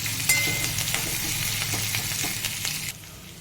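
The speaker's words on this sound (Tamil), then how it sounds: "பச்சை மிளகா, கருவேப்பிலை, வெங்காயம் எல்லாத்தையும் போட்டு நல்லா வதக்கணும்" Green chillies, curry leaves and onion sizzle steadily in hot oil in a pan while being sautéed for ragi semiya upma, a dense continuous frying hiss that drops off abruptly near the end.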